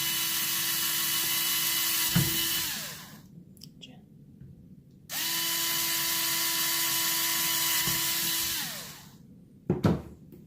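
Two bursts of a cordless drill boring holes into a right angle bracket for a kayak motor control mount, each whirring steadily for about three seconds before winding down, with quiet handling noise between.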